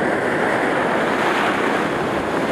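Ocean surf washing onto a sandy beach while surf fishing, a steady broadband wash of waves with wind buffeting the microphone, loud and continuous throughout with no voices.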